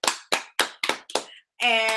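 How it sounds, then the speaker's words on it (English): A few people clap for a guest on a casual talk show: five or six separate, crisp hand claps in an uneven rhythm, close and fairly loud, then a short burst of denser clapping at the end. "Applause to Jen."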